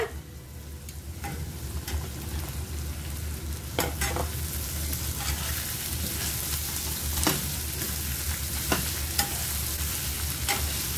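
Eggplant, garlic and onion sautéing in a pan: steady close sizzle and frying hiss with repeated scraping stirs of a spatula throughout, no voices.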